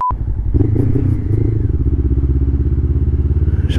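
A motorcycle engine throbs close and steady in a fast pulsing rhythm while the rider waits at a pedestrian crossing light in town. A short electronic tone sounds at the very start.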